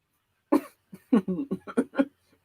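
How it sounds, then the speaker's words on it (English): A person coughs repeatedly, several harsh close-up bursts in quick succession, loud and raspy. "I don't know why I'm over here choking and coughing."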